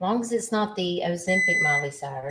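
A microwave timer alarm beeps in a steady electronic tone in a home kitchen during candy making, sounding under close, continuous conversation.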